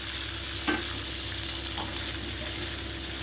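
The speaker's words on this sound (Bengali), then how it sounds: "এগুলো একটু হালকাভাবে ভাজা হতে থাকে" Capsicum frying gently in a pan over a low flame for chilli paneer with curry leaves, a steady soft sizzle running throughout with a couple of brief stirring clinks.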